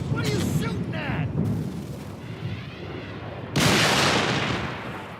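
Gunfire in the video game Halo: Reach, a dense mix of shots and explosive booms under game voices and effects, growing into a louder broadband burst near the end.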